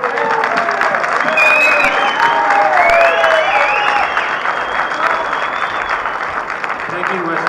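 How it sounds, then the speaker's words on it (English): An audience at a city council meeting cheers and applauds, a dense wash of clapping with whoops and shouted voices rising over it, staying loud for several seconds before easing. "And I hear him cheering."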